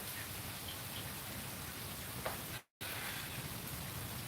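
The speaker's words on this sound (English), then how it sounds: "We got some beautiful rain background noise. It's raining in Austin this morning." Steady morning rainfall in Austin fills the background with an even hiss, with occasional droplets ticking close by and a brief dropout partway through.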